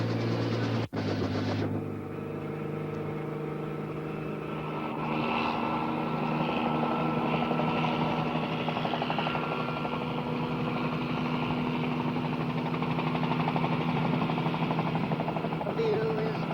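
A helicopter carrying people to a model rocket launch, its engine and rotor droning steadily and loudly throughout, with a brief knock near the start and a voice talking over the noise.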